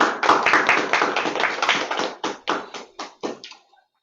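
Applause at a Rotary district international service committee meeting: a short burst of clapping, fairly close, that thins into a few separate claps and stops.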